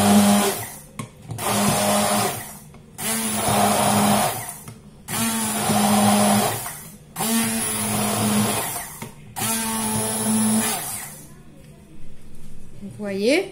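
A hand blender whirs in loud bursts while mixing eggless mayonnaise, about five runs of a few seconds each separated by short pauses, with a person talking between them.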